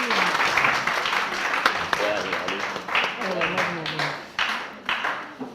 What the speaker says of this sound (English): let's clap for Madam Joan